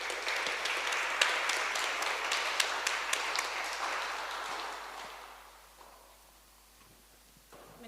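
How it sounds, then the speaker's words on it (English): An audience claps for Bulgaria's Defense Minister at a Munich Security Conference side event in a café, moderately loud and dense at first, then thinning and fading out after about five seconds into quiet room tone. "Please join me in a little applause for Minister Todor Tagarev, Defense Minister of Bulgaria."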